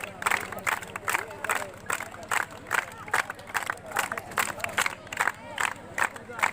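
Villagers and seated children clap steadily in rhythm at an outdoor girls' sports match on a village ground, loud regular beats with crowd noise and talking over it.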